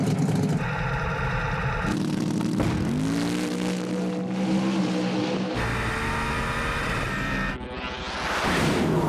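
Birdman's drag race car making a solo pass at a no-prep street outlaws event, its engine roaring loud and continuous as it accelerates through rising gear sweeps, with a brief dip near the end before surging again.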